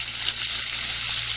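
Chicken broast pieces fry in hot oil with a steady, close, hissing sizzle that stays even throughout, with no talking.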